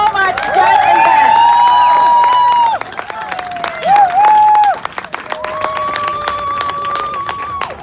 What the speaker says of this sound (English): So can I get a round of applause for everybody who put this together?